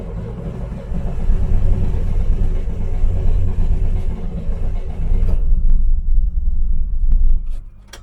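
A 1967 Corvair Monza engine cranks over and over without catching, a steady loud churning rumble that cuts off abruptly partway through, followed by a few faint clicks and quieter mechanical noise.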